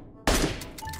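A single sharp gunshot in PUBG Mobile cracks out loudly after a brief silence, then trails into a short echoing tail.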